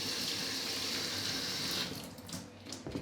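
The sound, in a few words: tap water washing bay leaves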